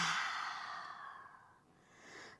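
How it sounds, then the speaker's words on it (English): One long exhale through an open mouth during a yoga forward fold, a soft breathy sigh that starts fuller and fades away, close and quiet with no speech. "open mouth, exhale."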